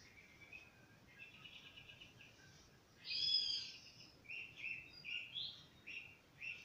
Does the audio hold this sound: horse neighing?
no